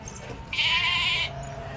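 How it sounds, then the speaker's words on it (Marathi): A single sheep bleats at a livestock market, one sustained bleat of about three quarters of a second standing clearly above a low murmur of market background. "बघा शेतकरी बांधवांनो एक मेंढी आहे"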